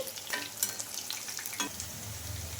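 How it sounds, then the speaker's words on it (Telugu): Flattened rice snack fries gently on a low flame, a soft, steady sizzle with a few light stirring scrapes, close and quiet. "ఇంకా మనం అటు ఇటు తిప్పుకుంటూ రెండు పక్కన బాగా క్రిస్పీగా వచ్చే వరకు అయితే ఫ్రై చేసుకోవాలండి"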